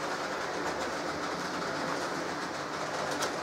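Train running on rails, a steady close rumble and rushing roar with faint rhythmic clicks, unbroken and fairly loud with no voices.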